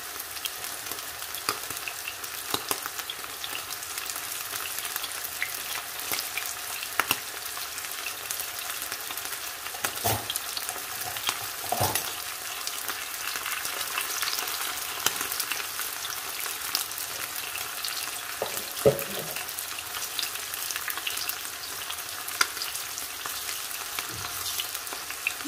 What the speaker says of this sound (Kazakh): Осылай екі бетін қызартып, қуырып отыратын боламыз.